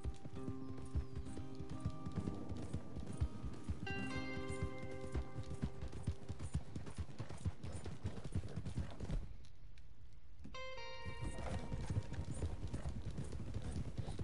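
Steady rhythmic clip-clop of horse hooves walking in the video game Red Dead Redemption 2, with background music and occasional voices over it.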